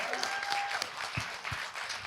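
Brief audience applause at a film talk event, a dense wash of clapping with a few sharper claps and faint voices over it.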